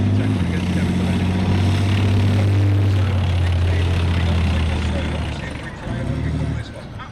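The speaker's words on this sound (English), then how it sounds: "this is Challenger 2 Titan armoured bridge, for an armoured vehicle launch bridge" Challenger 2 Titan armoured bridge-laying vehicle driving past at a British Army Tank Fest demonstration, a loud, steady low engine drone that swells and then eases off, with a voice talking over it.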